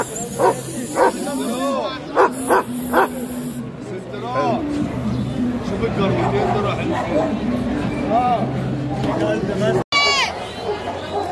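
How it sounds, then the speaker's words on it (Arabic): Guard dogs bark at an Egyptian Friday market, several sharp barks in the first few seconds and scattered ones later, set amid a loud crowd with constant talk and chatter. "اخونا عبد الرئيس عنده جراوي عنده كلاب"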